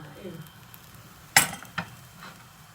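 Corn bread frying in a pan on a large stove burner as it is flipped: a soft steady sizzle broken by a sharp clatter of a utensil against the pan and a couple of smaller clinks, with a voice talking.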